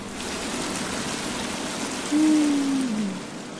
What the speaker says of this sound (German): Ein bisschen laut hier der Wasserfall.